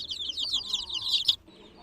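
A mother hen with her chicks gives a run of close, busy clucks and chirps, bright and continuous for over a second before falling quiet.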